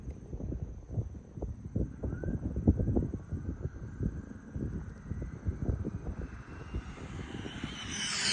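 An Arrma Infraction 8S RC car runs at about 30% throttle, a rising high-pitched motor whine that grows louder as the car approaches near the end, over rough, crunching tire noise on the ground.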